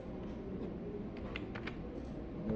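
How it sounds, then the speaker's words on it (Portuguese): Someone types a short command on a computer keyboard, a quick run of light key clicks over a steady background hum. "Agora digita DI para medir uma distância."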